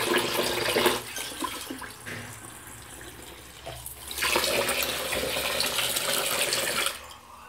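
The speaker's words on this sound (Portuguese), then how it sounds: "E agora eu vou colocar mais um pouco de água." More water being poured during house cleaning, a near, loud rushing splash in two bursts with a short lull between, no voices.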